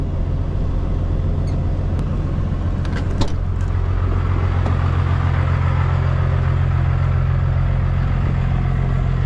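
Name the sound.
vehicle engine backing up to a trailer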